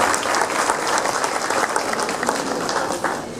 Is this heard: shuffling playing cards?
no